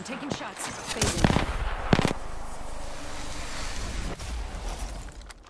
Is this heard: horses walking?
no